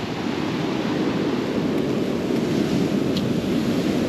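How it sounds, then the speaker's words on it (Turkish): Rough ocean surf breaks on a quiet beach at Palomino, Colombia, a dense steady roar of waves mixed with wind buffeting the microphone, continuous and fairly loud with no voices. "Deniz hırçın, deniz değil okyanus."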